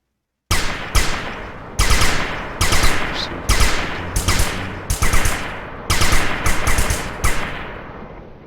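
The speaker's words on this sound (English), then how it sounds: "Really annoying shooting." Rapid bursts of automatic gunfire from a first-person shooter built in Unreal Engine 4, several loud close volleys separated by brief pauses, with no talk over them.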